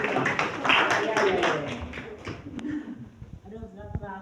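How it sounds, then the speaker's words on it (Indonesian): A class claps for everyone, scattered hand claps in an uneven rhythm that fade out partway through, mixed with voices and room noise. "tepuk tangannya untuk semuanya"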